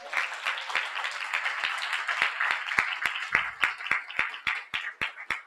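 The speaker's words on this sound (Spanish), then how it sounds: "Un aplauso para José Luis" Audience applause for José Luis, the first president, at a talk on the social and educational work of rights-management organizations; steady crowd clapping with sharp individual claps standing out and becoming more sparse toward the end.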